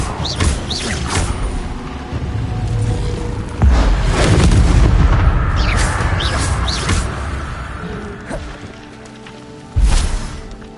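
A Confringo fire spell going off in a video game, with booming explosive blasts and crackling bursts, one loud surge midway and a sharp boom near the end.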